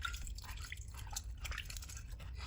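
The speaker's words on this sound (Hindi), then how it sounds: "अब इनको पानी से हम धो लेंगे 2-3 दफ़ा ना अच्छी तरह।" Water splashing and dripping close by as bitter gourds are rinsed and swished around in water, a steady wet churning with scattered drips throughout.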